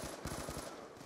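Light machine gun with an extended magazine firing in the Black Ops 2 campaign, a quick run of rhythmic automatic bursts, steady and fairly faint, under in-game ambience.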